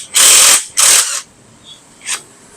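A ratchet turns a number 14 socket to loosen a nut on an ADV160 scooter, giving two loud, close ratcheting bursts followed by a fainter third click.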